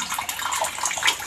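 Filtered water pours steadily into a plastic bucket from a homemade DIY filter, a continuous close splashing gush with no talking.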